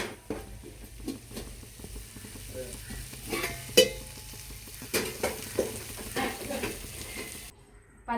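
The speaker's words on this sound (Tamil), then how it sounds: "ஜீரகம்லாம் நல்லா பொரிஞ்சிருச்சு" Cumin seeds crackling and frying in a pan for a goat blood stir-fry, a continuous close sizzle with scraping stirs and occasional utensil clinks, ending abruptly.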